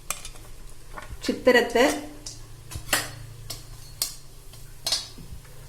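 Dry ginger and spices are roasted in sesame oil in a pan, giving scattered metallic scrapes and clinks over a low steady hum, with a brief stretch of talking in the middle.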